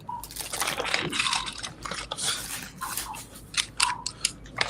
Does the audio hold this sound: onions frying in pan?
no